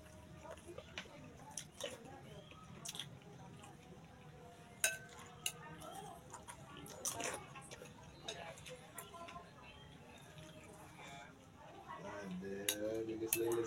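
A spoon clinks and scrapes against metal cookware while cooking opor ayam, in scattered sharp taps, with people talking in the background.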